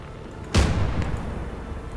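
A big explosion rips through a WWII video game battle, a sudden loud boom that hits at once and then rumbles and decays over a second or more beneath low background noise.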